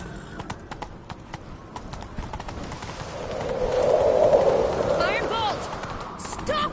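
A horse's hoofbeats clatter in a steady galloping rhythm in The Witcher 3, growing louder midway amid a rushing wind-like swell, with a neigh and brief talk near the end.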